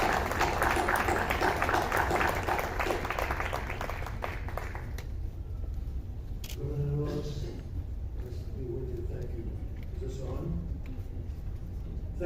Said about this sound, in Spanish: Le paso la palabra a mi amigo John Kerry, me lo reciben con un aplauso que lo merece